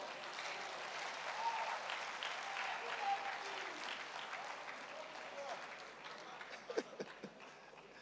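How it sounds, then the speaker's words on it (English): An audience at a panel session keeps up continuous applause, a fairly faint, distant wash of clapping that holds steady for several seconds, with a few sharper claps near the end. "If you clap better, then he will walk faster."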